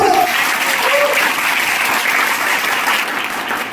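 A church congregation claps loudly, a sustained close burst of applause that continues evenly throughout, with a faint voice at the very start.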